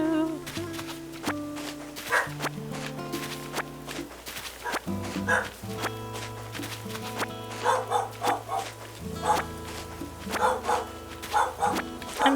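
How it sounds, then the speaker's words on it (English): A dog barks repeatedly in the background in uneven bursts, mixed with soft steady game music. "you can hear my dog barking his head off in the background"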